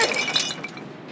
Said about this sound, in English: smashes the glass bottles, which litter the sand below